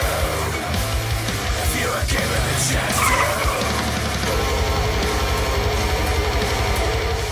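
A Ram 700 BigHorn pickup swerving to dodge at about 60 km/h, its tires skidding and squealing against steady road and engine noise, loud and close throughout.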